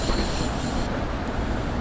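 A simulated train from Train Simulator runs from London King's Cross toward St Neots, its steady rail rumble loud and continuous with a high wheel whine that cuts out partway through.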